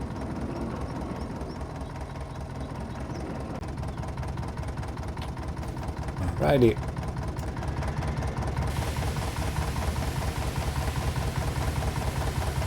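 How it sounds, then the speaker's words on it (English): A tractor engine idles steadily throughout, a low continuous rumble with a faint knocking pulse, while someone briefly says a word near the middle. "Gonna keep the tractor running."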